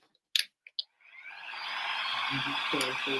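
After a few sharp clicks, a dryer switches on and blows a steady, rising whoosh to dry paint on a tray, with a brief voice near the end.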